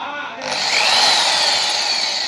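A Dongcheng 13mm impact drill runs at speed, its bright high whine starting abruptly and holding steady and loud, with the pitch rising briefly as it spins up.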